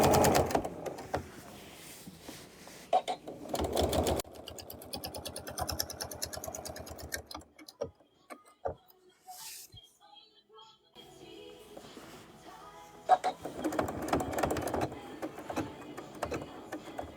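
A sewing machine stitching a quilt runs in bursts of rapid, even needle chatter that start and stop, with quieter gaps between the runs of stitching.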